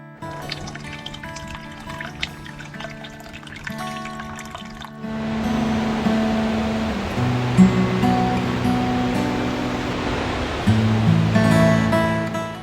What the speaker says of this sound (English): As the creek cascades beneath large leaf maples and ferns, it creates the next 3 falls.